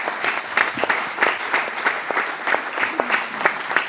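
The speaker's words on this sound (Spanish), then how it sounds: "venga, un aplauso." Audience applause at a bullfighting magazine presentation, a small crowd clapping with distinct individual claps in a loose, uneven rhythm, moderately close and steady throughout.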